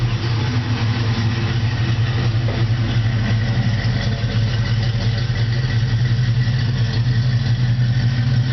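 A 1970 Ford Mustang idles steadily through its dual exhaust, a deep, even rumble that holds close and loud for the whole stretch with no talking.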